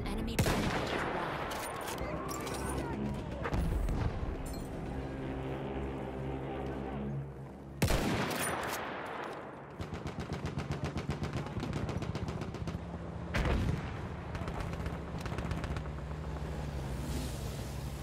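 Rapid machine gun bursts rattle across a WWI battlefield in a video game, with dense rolling volleys, sharp closer shots and the drone of engines beneath, and voices call out intermittently.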